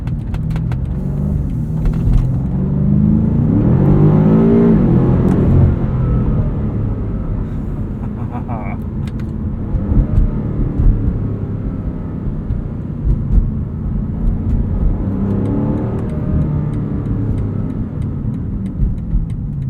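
2022 BMW M5 CS engine and exhaust while driving, a steady loud rumble that swells under acceleration then settles into a continuous cruising drone, with no voices.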